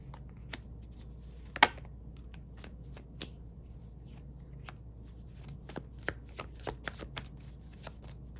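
Tarot cards being shuffled by hand in a quiet room, a run of soft riffling flicks and sharp taps spread irregularly across the stretch, with one louder snap near the start and no talking.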